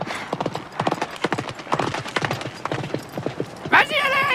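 A horse's hooves clip-clop in a quick, steady rhythm, close and clear, ending with a short whinny; a voice speaks briefly among the hoofbeats.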